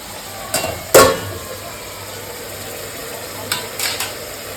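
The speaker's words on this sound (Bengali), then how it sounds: "ভাজো ভালো মতো মশলাটা" Masala frying in a pan for a Bengali-style stingray fish curry, with a few clattering stirs of a spatula against metal over a low, steady background sizzle.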